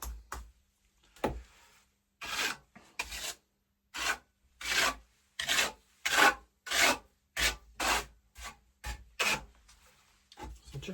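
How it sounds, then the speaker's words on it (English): A brush dabs plaster texture onto a sample board in repeated short, rhythmic broadband strokes, close and fairly loud, about a dozen in steady succession with no talking. "I'd rather put it on with a brush rather than start spreading with a trowel"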